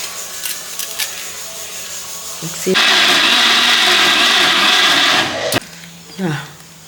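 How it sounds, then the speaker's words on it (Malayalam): A mixer grinder whirs loudly for about three seconds as it grinds jackfruit into a paste in a home kitchen, preceded and followed by quieter scraping and handling noises. "ഇനി നമുക്ക് അരച്ചെടുക്കാം"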